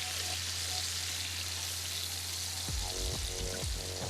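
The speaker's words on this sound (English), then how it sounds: "Make sure all the apricots are frying up equally." Apricots fry in butter and sugar in a pan, a steady close hiss of sizzling throughout, joined near the end by a few clattering scrapes of stirring.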